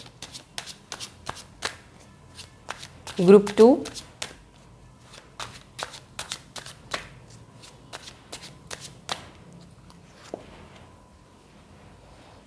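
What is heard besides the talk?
tarot cards being shuffled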